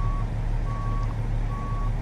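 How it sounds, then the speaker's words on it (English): In the game American Truck Simulator, a reversing truck gives three evenly spaced electronic beeps over a steady low engine rumble, with no talking. "Get that beeping sound off."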